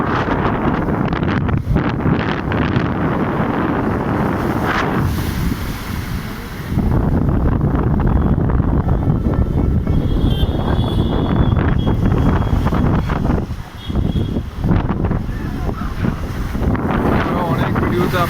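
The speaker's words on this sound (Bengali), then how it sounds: "প্রচণ্ড ঢেউ, ঢেউ মানে বৃষ্টিও হতে পারে এরকম লাগছে।" Rough sea waves surge and crash along the Marine Drive seafront in Mumbai while strong gusts buffet the microphone, a continuous heavy roar with a brief lull, and someone speaks over it at times.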